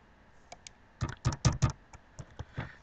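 Code is typed on a computer keyboard in a short burst of close, distinct key clicks, a cluster of firmer strikes in the middle followed by a few scattered taps, alone with no talk.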